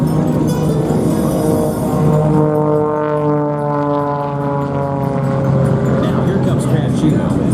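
The B-25 bomber Panchito taxis out at an airshow, its piston engines giving a loud, steady droning hum with a slowly shifting pitch. A voice talks over the engine noise.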